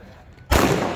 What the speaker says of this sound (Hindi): ये बुलेट बम है देखिए